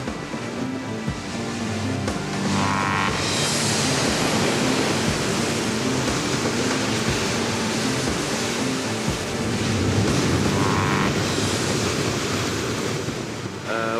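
Atlantic waves pound a black lava coast in the Azores, a steady roaring wash of surf with swells building and breaking again, heard close and loud with wind noise on the microphone.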